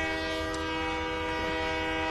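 A train at a night railway station in Palakkad, its horn sounding as a sustained, loud multi-tone blast over a low rumble of rail traffic.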